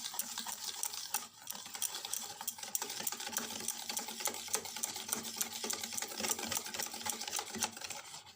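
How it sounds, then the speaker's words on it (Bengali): Powdered sugar is stirred into oil in a bowl for eggless cake batter, a quick, even rhythmic whisking and clicking that carries on steadily with no talking. "চিনিটা পুরোটা তেলের সঙ্গে গুলে দিতে হবে।"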